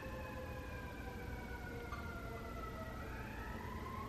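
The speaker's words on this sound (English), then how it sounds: "I think it's an ambulance." A distant ambulance siren wails steadily in the background, faint and continuous under low ambient noise, with no voices.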